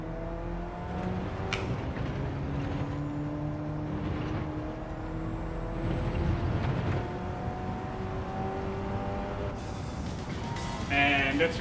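A race car in Gran Turismo 7 hums along at low volume, with steady engine tones rising and shifting as it drives, and a brief sharper burst near the end.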